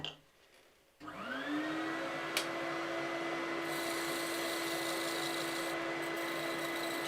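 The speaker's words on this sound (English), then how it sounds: "please excuse the extractor." A dust extractor in a woodturning workshop starts after a second of quiet and spins up to a steady, loud whining roar that holds evenly, with a brief click partway through.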